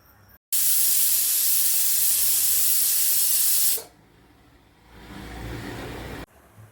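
A pressure cooker whistle: a loud, steady hiss of steam blasts for about three seconds, cuts off abruptly, then a softer hiss returns briefly before stopping.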